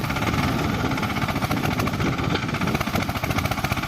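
A farm tractor engine runs close by with a loud, rough, steady chugging throb and vibration throughout, with no talk over it.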